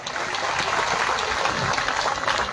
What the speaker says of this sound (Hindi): जोरदार एक बार आपके खुद के लिए तालियां